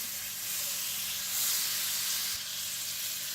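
Butter heating in a pan for a burger sauce gives a steady, soft hiss and light sizzle throughout, with no talking.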